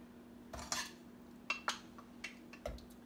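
Metal pot and utensil clinks on a stovetop as butter goes into a pot over medium-low heat while making rice krispie treats: a few sharp, close knocks and clatters spaced irregularly, with no talking.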